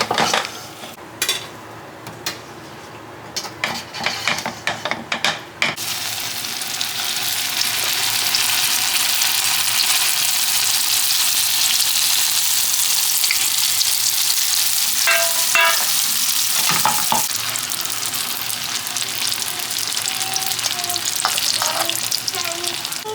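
Shrimp and cabbage frying in oil and stirred with a spoon: first a few seconds of clattering metal scrapes, then a loud, continuous close sizzle that persists to the end.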